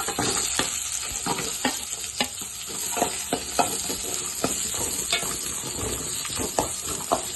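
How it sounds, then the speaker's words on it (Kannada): Two chopped onions fry in a pan with a continuous close sizzle, punctuated by regular scraping knocks of a spatula stirring them, with no talking. "ಹೆಚ್ಚಿಟ್ಟಿರೋ 2 ಈರುಳ್ಳಿ ಫ್ರೈ ಮಾಡ್ತಾ ಇದ್ದೀನಿ."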